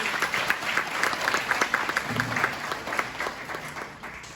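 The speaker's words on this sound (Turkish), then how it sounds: "şampiyon öğrencilerimize büyük bir alkış istiyorum" Moderate clapping from an audience at a school mind and intelligence games tournament, honoring champion students; individual claps are audible in a fairly steady rhythm, with a brief low murmur partway through.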